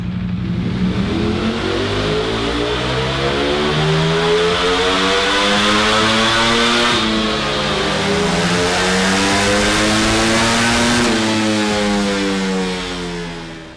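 A 2020 Ducati Panigale V4S motorcycle engine on a dyno revs hard and climbs steadily in pitch, holding at high revs for several seconds before easing off, with no talking.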